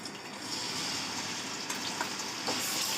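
Ginger garlic paste sautés in half a cup of oil in a kadai, giving a continuous close sizzle and crackle with faint stirring scrapes and no talking.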